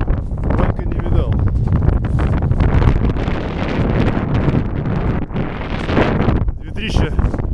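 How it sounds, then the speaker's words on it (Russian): Strong squally winter wind roars and buffets the microphone nonstop on a lake in Karelia, a loud rushing blast that barely eases throughout. "Ветрище шквальной."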